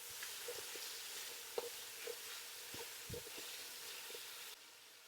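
Onions and tomatoes sizzle quietly in a pan for a Georgian lamb, walnut and rice kharcho, a soft steady frying hiss broken by a few faint clinks and taps of stirring.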